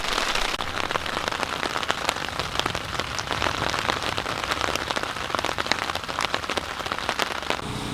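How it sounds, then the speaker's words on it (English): Steady rain patters on surfaces at a forest campsite, a dense continuous spray of close droplets with no wind, lasting throughout without voices. "Doesn't seem to be too much wind, just rain."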